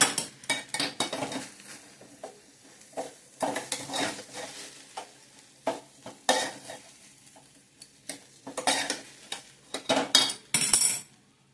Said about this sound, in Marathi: तर हलवून घेऊया.